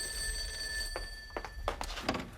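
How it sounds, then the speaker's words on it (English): Telephone bell rings in short repeated bursts in an indoor scene from a 1994 children's TV show set at a train station, moderately loud with a steady tonal background hum underneath. "Oh, I better get that. It might be the phone."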